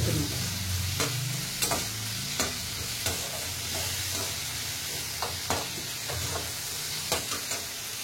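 Mint and coriander leaves sautéing in a pan for pudina kothamalli chutney, giving a steady soft sizzle with repeated sharp scraping stir strokes at irregular intervals, no voices.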